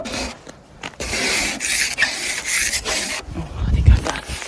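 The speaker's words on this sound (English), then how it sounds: "maybe you can't hear me over the defrosting" Melting ice being scraped and defrosted on a gritted, salted surface gives a close, continuous rough rasping and grinding, steady for most of the stretch with a heavier thump near the end.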